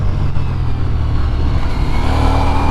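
A Ducati XDiavel V4 cruiser motorcycle with a roughly 170 horsepower V4 engine drones loudly and continuously while being ridden, a dense close engine roar mixed with wind rush and no talking.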